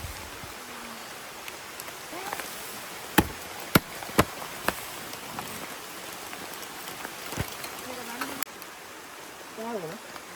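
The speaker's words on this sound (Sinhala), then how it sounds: "ගයිස් මාර වෙලාවක් හොඳට වහිනවා." Heavy rain pours steadily over a wild campsite, a dense hiss of drops broken by a few sharp, close taps, with a voice talking quietly at times.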